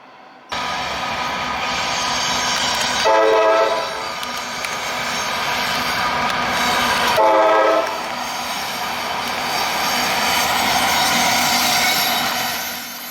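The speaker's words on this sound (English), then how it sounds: "Most of the engineers make sure to give a friendly horn show to all of the onlookers at the park" A Norfolk Southern intermodal freight train works down a mountain grade with a steady rumble, sounding its horn in two loud, sustained blasts as it passes close by.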